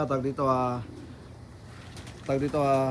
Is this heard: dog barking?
no